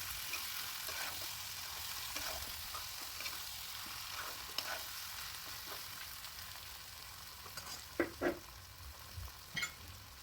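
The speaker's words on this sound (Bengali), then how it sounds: "নুনটাও ভালো করে নেড়েচেড়ে মিশিয়ে নিয়েছি" Chicken curry sizzles quietly in a pan while being stirred, a low steady frying hiss broken near the end by a few sharp scrapes of the spoon.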